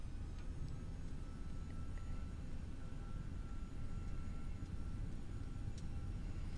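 A jet engine in the X-Plane 11 flight simulator spools up for takeoff as the throttle rises, a faint, steady rumbling roar with a thin whine above it, continuous and unbroken with no talk.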